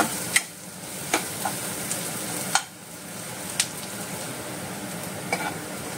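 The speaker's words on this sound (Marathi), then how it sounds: "फ्रेंड्स हो कांदो भाजता आनी मातशें भाजून दवरपाचो" Onion fries in a pan with a soft, steady sizzle, broken by a handful of sharp clinks and scrapes from stirring, spaced about a second apart, with no voices.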